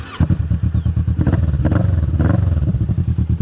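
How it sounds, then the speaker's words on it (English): A motorcycle with an aftermarket Delkevic exhaust revs hard and close, its throaty exhaust popping in a fast steady rhythm with brief surges in pitch. "It's got a Delkevic exhaust on it, so it sounds beautiful"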